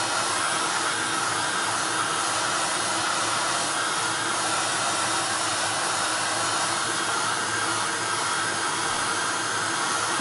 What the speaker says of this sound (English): So it's just a case of drying that gesso.